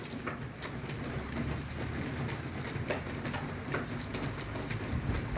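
Heavy rain pours down during a moderate March storm with small hail, a dense, steady hiss with faint scattered ticks of drops, continuous and fairly close.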